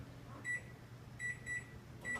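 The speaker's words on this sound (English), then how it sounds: "we're going to put that in the microwave for about 2 minutes" A microwave oven hums faintly while heating a cup of water in a microwavable measuring bowl, with soft high electronic tones recurring every half second or so over the low drone.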